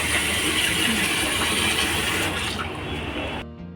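Lentils (dal) being rinsed in water in a home kitchen, a steady close splashing and swishing of water that runs continuously, then fades out near the end.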